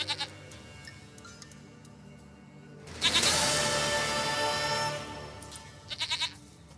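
A goat bleats in The Witcher 3, a short burst of quavering calls at the start, then a longer loud drawn-out bleat in the middle, and another brief burst of calls near the end, close and alone.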